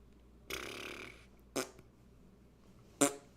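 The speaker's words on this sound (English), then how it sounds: "That's all I gotta say, is just fart noises." Fart noises, three separate bursts: a longer raspy one near the start, then two short sharp pops spaced about a second and a half apart, fairly close and alone with no talking.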